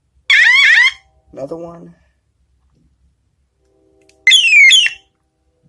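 A BBR Tuning 3-in-1 bicycle brake light and turn signal unit plays its car-alarm style siren: two loud warbling electronic bursts separated by a pause, with a brief spoken remark between them.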